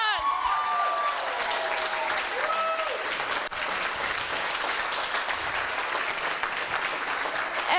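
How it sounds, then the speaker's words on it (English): Audience applause at a coding bootcamp demo day in Montreal, steady dense clapping that fills the whole stretch at even loudness, with a few voices and cheers mixed in. "Let's have a huge round of applause."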